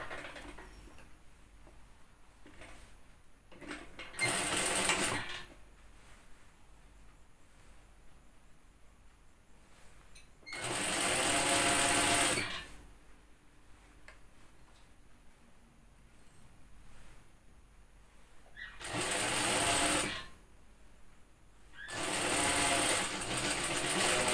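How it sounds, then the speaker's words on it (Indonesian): A sewing machine stitching a shirt shoulder seam, running in four separate whirring bursts of rapid stitching with quiet pauses between them, fairly soft and with no talking. "kita ngejahit pas tepat di jahitan yang pertama lagi"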